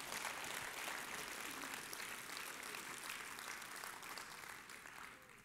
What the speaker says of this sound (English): You're clapping. Make them all clap.